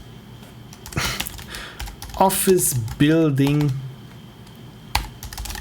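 Rapid clicking on a computer keyboard while playing a Twine detective game, heard under a person's speech, with keystrokes pattering steadily throughout.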